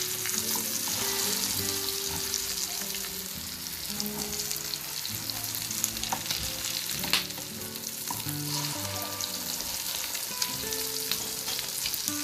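Shami kebabs fry in a pan over low-to-medium heat with a soft, steady close sizzle, broken by an occasional light clink or scrape.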